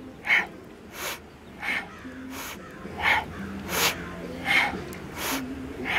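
Quick rhythmic inhales and exhales during a yoga warm-up for the upper body, about eight sharp, breathy puffs at an even pace, close and fairly loud, with no speech.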